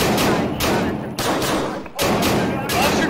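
Loud, close bursts of gunfire from the tactical shooter Tactical Assault PVP, in a police standoff with barricaded suspects. Several heavy volleys come in quick succession, with shouting voices between them.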